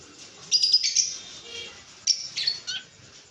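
Pet birds such as conures and cockatiels in a home stock, giving a few short bursts of shrill chirps and squawks separated by quiet pauses, fairly near, with no talk.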